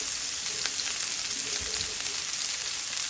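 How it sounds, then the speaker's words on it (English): Seasoned pork, salted and peppered, sizzles steadily in a hot pan on a stovetop, a continuous close frying hiss with faint crackles and no talking. "to cook our pork that I already put salt and pepper on it."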